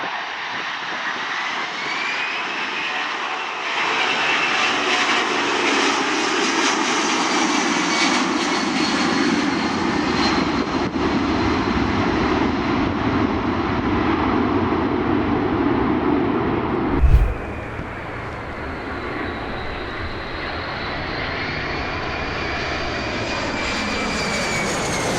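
A fixed-wing airplane's engines roar steadily during an aborted landing in wind and low visibility, a loud sustained drone that shifts in pitch, with a sharp thump near the end and no voices.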